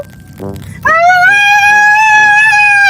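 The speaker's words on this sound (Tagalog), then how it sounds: "Ba't parang may sumisigaw?" A person screams, a sustained high wavering cry that follows a brief burst of other voices, loud and close.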